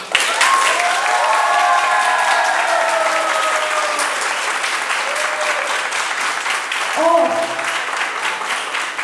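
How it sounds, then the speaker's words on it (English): An audience in Turkey applauds astronaut Parmitano at the close of an amateur radio contact with the International Space Station: a dense, steady wash of clapping across the hall for about nine seconds, with a few brief high tones rising over it. "Please give Mr. Parmitano a big round of applause for his efforts today."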